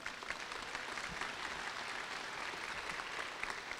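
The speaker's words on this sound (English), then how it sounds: "You stand up and get some applause there." Steady applause from an audience at a high school awards ceremony as a student award winner stands. It is fairly faint and continuous throughout, with no talk.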